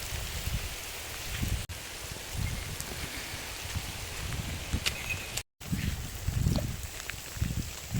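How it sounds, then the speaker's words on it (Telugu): Heavy rain falls on a village dairy farm, producing a constant hiss with low thumping gusts or splashes recurring every second or so, moderately loud, with no talking. "వర్షం అయితే ఫుల్ పడుతుంది."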